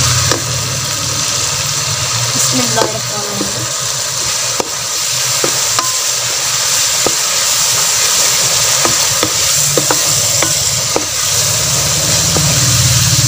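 Ground black pepper and cinnamon are stirred into a sizzling pan for a masala potato and egg dish, a continuous loud fry with repeated scraping and tapping of a spoon, no voices.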